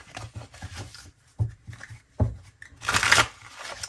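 A tarot deck is shuffled by hand, giving repeated soft riffling and flicking bursts of cards up close, ending in a louder, longer riffle.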